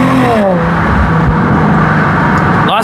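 A Chevrolet Corvette C7 Grand Sport engine roars loudly and steadily up close, its pitch sliding down early and sweeping again near the end.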